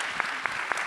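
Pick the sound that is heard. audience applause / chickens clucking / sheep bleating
audience applause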